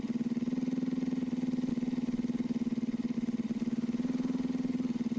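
Vehicle engine in the video game Howler for an Hour, a pizza delivery game, giving a steady low idling rumble that holds evenly throughout with no speech.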